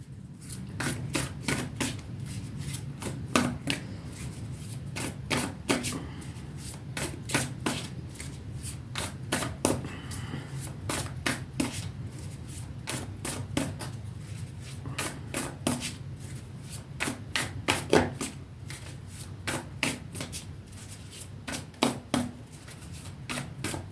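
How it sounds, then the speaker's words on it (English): A tarot deck is shuffled and cut by hand, giving repeated crisp riffling bursts at an uneven rhythm over a low steady background hum, close and fairly quiet, with no talking. "let's pull some tarot now for you"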